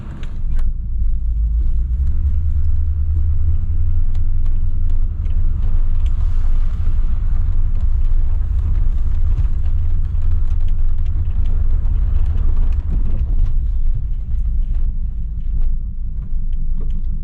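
A Land Rover Discovery engine idles with a misfire, a loud, steady low rumble running throughout with an uneven, lumpy undertone and faint light clinks on top.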